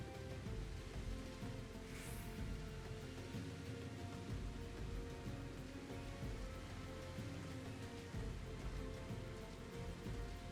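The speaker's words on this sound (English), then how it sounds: "Oh, it's raining." Rain falls steadily in Final Fantasy XIV with a soft, continuous hiss and patter at low level. No voices are heard over it.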